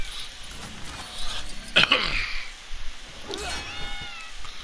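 Box cats in the Lego Dimensions video game meow and yowl as they are hit, several short cries and one strained caterwaul popping over soft game background sound.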